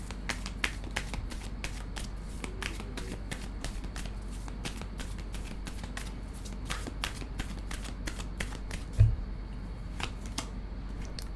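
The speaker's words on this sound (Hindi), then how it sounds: "मैं भी शफल करना चाहूँगी।" Tarot cards being shuffled by hand: a steady run of quick, soft riffling snaps close by, continuing throughout, with a single heavier tap near the end.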